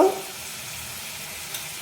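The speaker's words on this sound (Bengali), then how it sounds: "পেঁয়াজটা অল্প একটু ভাজা ভাজা হয়ে গেলেই বেশি ভাজার দরকার নেই" Onions frying lightly in a pan make a steady, soft, broadband sizzle after a short louder scrape at the start, with no voices.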